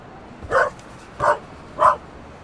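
A dog in The Raven: Legacy of a Master Thief barks three times at even intervals, short loud close woofs with quiet gaps between, alone without talk.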